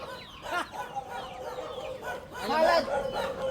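Clucking and gobbling poultry calls from a farmyard bird, a few bursts with a louder squawking call near the end, over faint background murmur.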